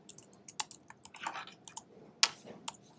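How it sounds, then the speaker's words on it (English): Typing on a computer keyboard with a quick, uneven run of crisp key clicks and a few sharper taps, close and clear with no talking. "So I'm typing High Point High School."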